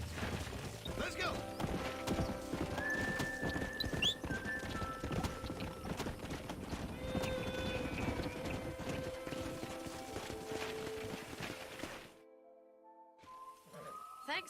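Steady clip-clop of galloping horse hooves with a couple of whinnies over the Red Dead Redemption game soundtrack, loud throughout, then the hoofbeats stop and music continues alone.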